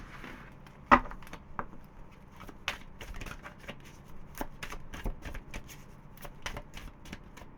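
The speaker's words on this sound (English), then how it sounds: "one more shuffle" Tarot cards are shuffled by hand in a quiet room, giving soft riffling and tapping with a few sharper snaps, faint and close, with no talking.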